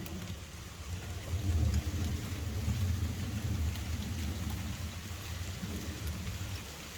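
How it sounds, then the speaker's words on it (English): Steady rainfall hisses with a low rumble underneath, building slightly then settling, soft and distant, no voices. "I just love the rain."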